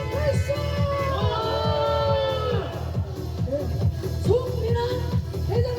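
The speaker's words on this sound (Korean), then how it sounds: "함성 발사!" A rally crowd of high-school alliance supporters shouts together in a sustained, loud cheer and chant, with overlapping voices and whoops filling the whole stretch.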